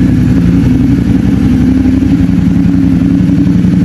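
A Ducati Multistrada 1200 Enduro fitted with a Termignoni full exhaust idles from a distance, making a steady, loud, low rumbling throb with an even pulsing beat and no talking.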